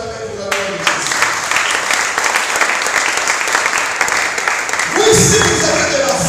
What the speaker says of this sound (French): Est-ce qu'on peut acclamer pour la gloire de Christ?